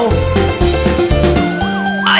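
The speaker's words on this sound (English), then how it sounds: "I hear police sirens." A loud wailing police siren in an animated children's song sweeps up and down close by, layered over music with a pulsing beat.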